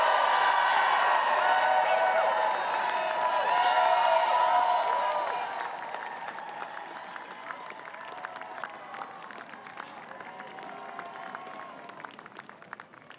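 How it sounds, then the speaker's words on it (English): A large outdoor crowd in Ballina, County Mayo, Ireland, awaiting President Biden, cheers and applauds loudly for several seconds, with whoops rising over the clapping before it eases into a lower, steady murmur of scattered claps and chatter. "the crowd is just settling, awaiting the arrival of President Biden"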